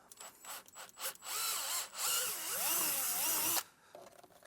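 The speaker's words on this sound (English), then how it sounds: "what I'm going to use is my 3/8 drill bit, and I'm going to create the hole for the knob" A power drill with a 3/8 bit whirs in bursts, rising and falling in pitch as it bores through a plastic dashboard in a 2016 Ram, then stops abruptly.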